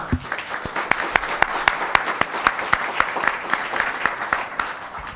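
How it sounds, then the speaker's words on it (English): A small group claps steadily for several seconds at a town council meeting, the individual claps distinct and evenly spaced in a room. "Let's give a big round of applause for Pamela."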